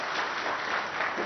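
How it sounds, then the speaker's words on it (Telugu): Audience applause at the inauguration of a Wipro Consumer Care factory, a dense, steady clapping from a crowd heard alone and fairly loud throughout. "చప్పట్లతో ధన్యవాదాలు చెప్పాలని కోరుతూ"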